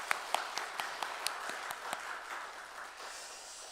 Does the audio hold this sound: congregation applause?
yes